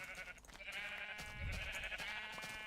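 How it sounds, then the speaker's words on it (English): A pink sheep in Minecraft bleats in a few quavering, nasal calls, close and clear, with no talking over it. "I found a pink sheep."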